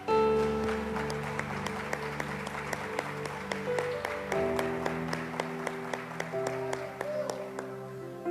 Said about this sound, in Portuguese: Vamos dar uma salva de palmas para o Senhor.